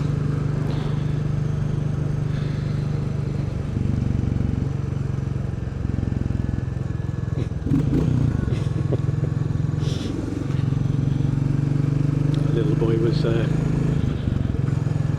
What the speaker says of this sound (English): I thought I'd best give him a little bit of an engine rev.